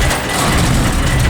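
A truck engine catches after a roll start, a loud, close, rumbling roar that holds steady for a moment.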